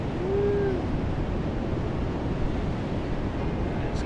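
Big surf at high tide at Marine Street beach, a steady, loud broadband roar of breaking waves with wind buffeting the microphone, continuous throughout with no voices.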